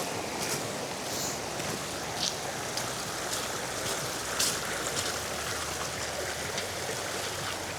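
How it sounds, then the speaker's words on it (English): A small creek spilling over a low drop onto a beach at Muir Creek near Sooke in winter gives a steady, even rush and trickle of water, close and unbroken throughout, with no voices. "You might even be able to call this a waterfall."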